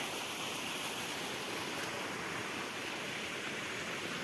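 Rainwater runs across a farm field after heavy monsoon rain, a steady broadband wash of flowing water that holds constant and fairly loud throughout, with no voices.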